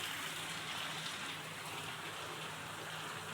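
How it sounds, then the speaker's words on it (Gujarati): Continuous heavy rain after a full day of downpour, a dense steady hiss of drops pounding surfaces with no break, loud and close throughout. "વરસાદ એક ધારો ચાલુ છે"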